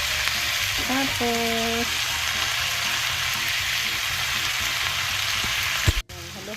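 Eggplant frying in a pan with string beans and other mixed vegetables, giving a steady loud sizzle while the pan is stirred. A brief voice comes early, and a clatter of the spoon near the end.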